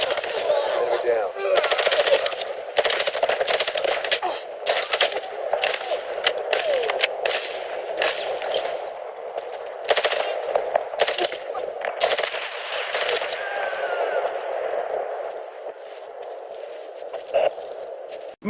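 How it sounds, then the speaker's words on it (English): Sustained machine-gun fire in Medal of Honor, dense rattling bursts with short pauses, mixed with battle noise and someone talking over it. "The bad guys are still coming, so may as well keep shooting at them"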